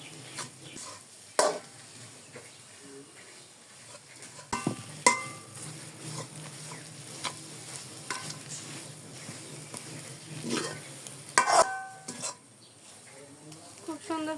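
A potato and egg cutlet filling being stirred and pressed in a pan, with soft scraping, faint sizzling and occasional sharp clinks of a utensil against the pan, spaced irregularly at moderate loudness.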